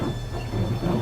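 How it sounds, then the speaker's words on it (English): Heavy rain in Train Simulator 2014 during a winter scenario with a Class 395 Javelin train, a dense continuous rushing wash with a low rumble, close and steady for a brief moment. "As you can see here, very heavy rain"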